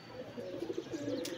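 Domestic pigeons coo softly and steadily nearby, a low rolling murmur of several birds with faint chirps and a brief flutter near the end.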